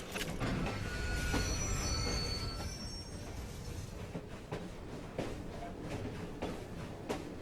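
A train in the video game Assassin's Creed: Syndicate rumbles along with wheels squealing and screeching high over the noise as it brakes, followed by steady rolling clatter.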